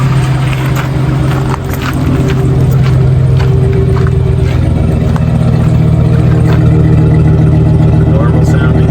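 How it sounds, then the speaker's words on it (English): A Chevy Silverado with a 4.8 LS V8 idles steadily after a misfire repair, its exhaust a smooth, even low drone held close and loud, with speech likely present. "Listen to the exhaust."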